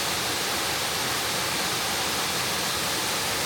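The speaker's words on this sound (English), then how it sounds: "waterfalls!" Waterfall on Scotland's North Coast 500 route, a steady broadband rush of falling water, continuous and fairly loud with no voices.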